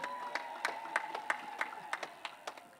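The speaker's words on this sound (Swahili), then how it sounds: "Mpigieni makofi balozi wa Uswizi" Scattered, rhythmic hand claps from an audience applauding the Swiss ambassador at the 25th anniversary celebration of MVIWATA, about ten sharp claps over a steady background tone.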